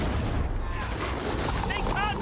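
Dense, continuous shotgun fire and battle noise in the video game Darktide, heavy booming blasts blurring together into a loud, unbroken roar with whistling effects near the end.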